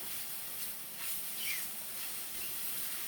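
Shiitake mushroom namul, already blanched in boiling water, stir-frying in a lightly oiled pan, giving a steady, close, fairly faint sizzling hiss that rises briefly in the middle, with no talk.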